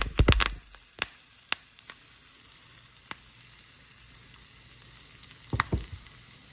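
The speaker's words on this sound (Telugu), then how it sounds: "ఆవాలు చిట్టపట్లాడుతున్నాయి" Mustard seeds spluttering in hot oil for tempering: scattered sharp pops and crackles over a low sizzle, with a dense burst at the start and another cluster near the end.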